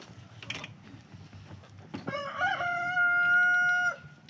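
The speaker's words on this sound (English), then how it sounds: "we just heard the chicken lay this egg" A chicken nearby clucks softly a few times and then lets out a loud, drawn-out crow that holds for a couple of seconds before it cuts off.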